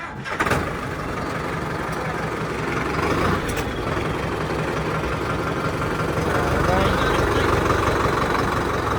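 A Sonalika tractor with a flat battery catches after a push start, its diesel engine chugging into a steady loud idle close by, with people talking over it.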